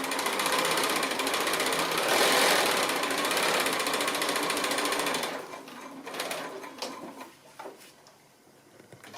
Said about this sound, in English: So I'm just sewing around that curve.